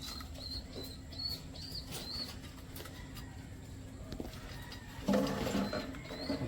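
Wings of a large, long-beaked bird flapping in quick fluttering bursts, soft and close, over faint background noise with occasional chirps, ending in a louder flurry.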